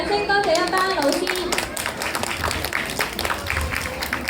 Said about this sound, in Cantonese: 我哋都要俾熱烈嘅掌聲，多謝一班老師